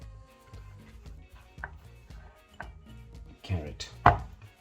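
Leafy tops of spring onion sliced with a knife on a cutting board, a series of soft, evenly spaced chopping taps close by, ending in a couple of louder knocks.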